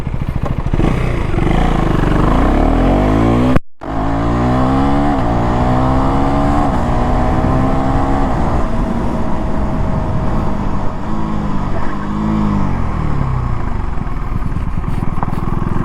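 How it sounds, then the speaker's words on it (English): A 2024 KTM Duke 390 Gen3 motorcycle engine accelerates hard on the road, its loud, close exhaust note climbing through the revs with a brief cut at a gear change, then pulling up repeatedly through further shifts. "I hope you have noticed the performance of the engine and the braking as well."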